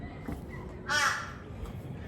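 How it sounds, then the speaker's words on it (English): A crow caws once in a loud, harsh burst in the background of a quiet Queensland suburb, standing out clearly against a low steady ambient hum. "I've got a crow in the background going,"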